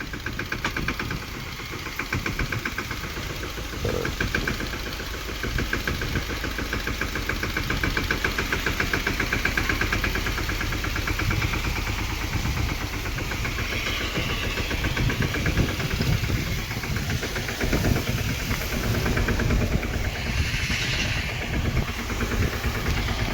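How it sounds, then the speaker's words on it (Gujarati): A tractor engine runs on a farm, a steady, rhythmic mechanical chug throbbing continuously at moderate volume, with no talking over it. "તો રણિયો ટ્રેક્ટર ઉપાડે"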